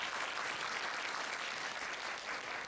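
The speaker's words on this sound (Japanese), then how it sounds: "ご挨拶にいただきました国会議員の皆さんにもう一度拍手をお願いいたします" A gathering applauds for members of parliament at an indoor assembly, a continuous, even burst of many hands clapping that fills the whole stretch without talk.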